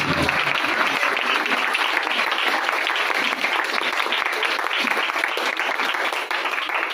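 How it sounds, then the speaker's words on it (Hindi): Church congregation clapping loudly and continuously, a dense, even roar of hands filling the hall throughout. "पात्रों तुझे दोनों हाथों से वेलकम करती है और जोरदार तालियां बजाती है।"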